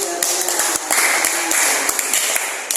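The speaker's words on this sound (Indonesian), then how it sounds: "Oke, tepuk tangan bagus sekali." Students in a classroom clap together in a loud, brisk burst of applause that stays steady for a few seconds, with scattered sharper claps on top.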